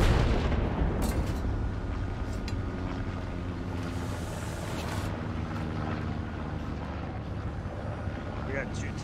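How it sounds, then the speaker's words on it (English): Artillery fire in Hell Let Loose, booming rumbles and distant blasts over a constant tank engine drone, with a squad talking over the noise. "Artillery being shot on the north side"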